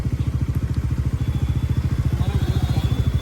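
A Bajaj Pulsar NS400Z motorcycle engine running at a steady idle, a loud close, even low thumping pulse with a faint voice in the background.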